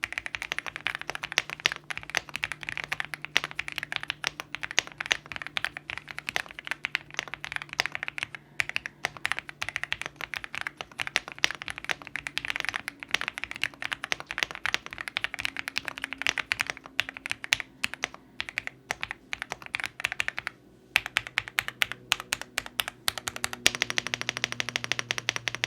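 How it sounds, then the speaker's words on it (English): Steady, fast typing on a Dareu EK87 Pro mechanical keyboard, crisp clicky keystrokes in a continuous stream, close up with no talking. "now it's pretty obvious why this keyboard is sound so good"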